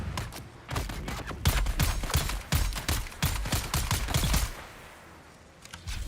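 Sustained bursts of rapid weapon fire in Dune: Awakening, close and loud, a fast rattling stream of shots that tails off into quiet near the end.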